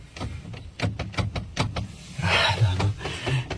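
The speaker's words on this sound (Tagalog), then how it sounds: "Sa labas ng kotse, madidinig mo ang paggalaw ng door handle na parang may nagbubukas nito." Car door handle rattling and clicking by itself from outside the car, a series of sharp repeated mechanical clacks followed by a longer scraping rattle, close and fairly loud.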